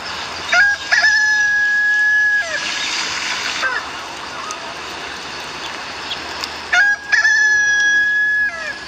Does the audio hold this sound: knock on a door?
no